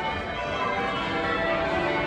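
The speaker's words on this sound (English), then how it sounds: "Hopefully you can hear the joyful sound of bells." Church bells peal at Westminster Abbey, a dense, continuous wash of overlapping rings heard outdoors at moderate distance, with no talk over them.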